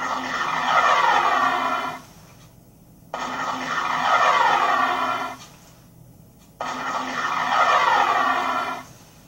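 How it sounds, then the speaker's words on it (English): Rocket firing sound effect for a Warhammer 40k dreadnought costume, a loud whooshing roar with falling pitch played three times in a row, each burst about two seconds long with short gaps. "This is the rockets."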